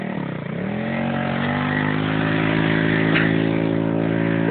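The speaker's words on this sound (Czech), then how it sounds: "No to je traktor" A tractor engine drives past outdoors in a Czech countryside setting, its steady mid-pitched drone loud and close, holding a constant tone and rising slightly as it passes, with no talk over it.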